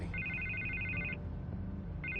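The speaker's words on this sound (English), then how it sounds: "I can't get the phone to stop ringing." A telephone rings in the Telltale Batman game, a long electronic trill that stops and then starts again about a second later, sounding over a low ambient hum with no one talking.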